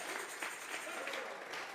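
Church congregation clapping during a Sunday service, a brief run of soft, fairly distant applause with scattered claps rising and falling.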